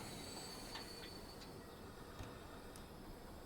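A train in Transport Fever 2 slows and stops, giving faint intermittent high-pitched wheel squeals over a steady low rumble, with no talking.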